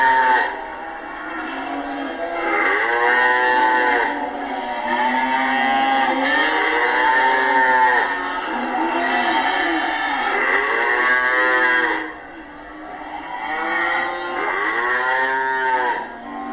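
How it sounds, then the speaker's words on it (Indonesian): Cattle moo repeatedly in long, low, drawn-out calls, several overlapping bellows close by against a steady background hum. "terdengar suara sapi."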